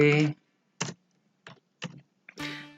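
Keyboard keys struck in short separate bursts during copy-and-paste shortcuts while working in a VB.Net library application, about four quick presses, close and clear, with someone talking before and after.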